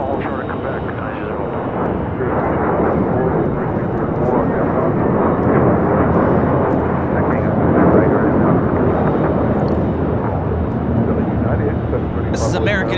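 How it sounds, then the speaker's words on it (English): An American Airlines Airbus A321 takes off from LAX, its engines producing a loud, broad, steady roar that swells slightly and holds throughout, with some faint voices underneath. "This is American Airlines 1672 taking off to Dallas Fort Worth on an A321"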